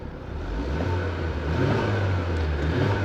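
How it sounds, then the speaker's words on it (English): A 2.3-liter EcoBoost engine in a Ford Explorer ST-Line revs steadily, a low continuous drone with a rising tone, heard close and alone with no talk over it. "let's go ahead and see if we can hear a little bit of this EcoBoost engine"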